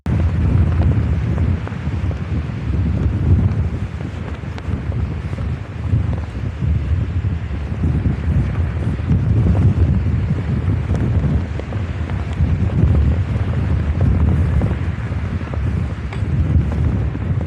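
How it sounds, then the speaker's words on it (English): Strong coastal wind buffeting a rider on a GreenSpeed GT1 recumbent trike at Redcliffe, a loud continuous low roar with gusty surges, no voices. "Absolutely loving this wind"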